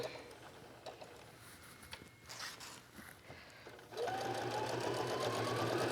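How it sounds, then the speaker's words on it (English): A sewing machine stitches around the edge of a colorful fabric wallet, first a few soft taps and shuffles, then a loud, continuous whirring run of stitching starting partway through and holding steady to the end. "here I'm just sewing all the way around this"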